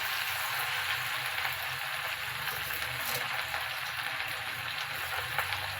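Gongura leaves with green and dried red chillies frying in oil, producing a dense, steady crackling sizzle, loud and near, that holds evenly throughout without voices.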